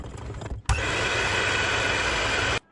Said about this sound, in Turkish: Kıvam alıncaya kadar mikserle çırpıyorum.